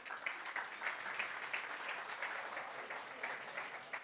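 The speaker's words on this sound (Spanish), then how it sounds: "hay que darle un aplauso a los chicos de Entropy Unit" A tech conference audience at T3chFest 2024 applauds the Entropy Unit team, with continuous, even clapping from a crowd, moderately loud and heard alone.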